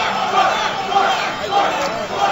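Tournament crowd at the EVO 2011 BlazBlue grand finals chanting the player name Spark, a dense roar of many voices rising and falling in rhythmic swells, loud and continuous throughout.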